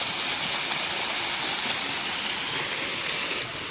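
Water from a fountain show at a golden temple rushes and splashes. It makes a loud, steady gushing hiss that continues without pause, and no one speaks.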